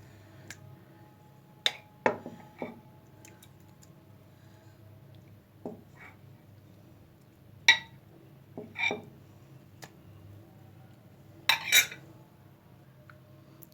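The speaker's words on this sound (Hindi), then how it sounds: "अब हम खोए को अच्छी तरह मिक्स करते हैं।" Khoya being mixed into carrot halwa in a pot, heard as sparse, sharp metallic clinks and scrapes of a spoon against the pot, spaced irregularly over a quiet background.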